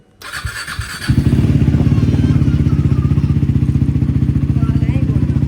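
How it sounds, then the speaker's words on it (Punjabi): A motorcycle engine starts and then idles steadily to warm up, a loud, close, evenly pulsing rumble that carries on without a break to the end. "ਬਾਈਕ ਨੂੰ ਕਰ ਲਈਏ ਗਰਮ ਥੋੜਾ"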